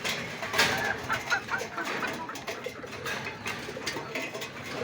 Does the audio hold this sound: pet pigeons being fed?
yes